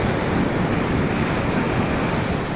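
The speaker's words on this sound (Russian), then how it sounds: "Волны." Stormy sea surf rolls onto a beach at Kuchugury, a steady, loud, close roar of breaking waves mixed with wind buffeting the microphone, with no voices.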